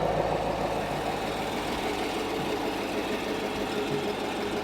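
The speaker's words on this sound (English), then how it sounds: "Stock exhaust. Listen to that." A 2021 Chevrolet Camaro SS on its stock exhaust idles steadily, a loud, close, even rumble that holds constant throughout, with no talking.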